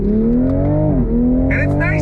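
A 2022 Toyota GR Supra with a manual gearbox in sport mode, its engine note dropping and then climbing again through a downshift, loud and close inside the cabin.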